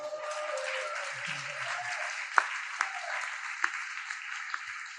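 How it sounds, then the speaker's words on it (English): Steady applause from an audience at a dance hall of fame induction ceremony, a dense patter of many hands with a few sharper claps standing out, fairly soft and continuous throughout. "You can applaud."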